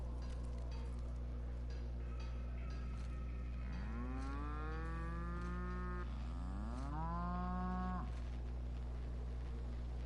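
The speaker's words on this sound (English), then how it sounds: "Why do we have woolly cows on here?" Woolly cows aboard a spaceship in The Outer Worlds give two long, loud, drawn-out moos one after the other over a constant low mechanical hum, with no speech.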